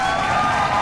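A studio audience claps and cheers to welcome a singer onto a television talk show, a dense, steady wash of applause without pause.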